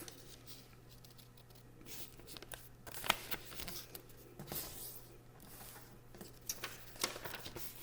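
Paper being folded for a tangram puzzle, a square cut into two triangles with one triangle creased in half: soft crinkling, sliding and pressing rustles, close and quiet, with a few sharper crisp snaps along the way.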